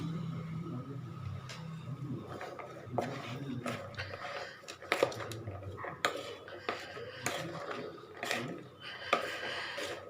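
Corn kernels coated in corn flour and salt being mixed in a bowl, with a spoon clinking and scraping against the dish in irregular knocks over a soft rustle, close by.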